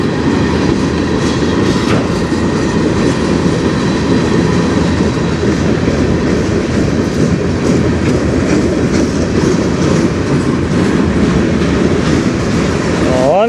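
A CN freight train rumbles steadily past nearby with a continuous heavy roar and faint rhythmic clatter of wheels throughout.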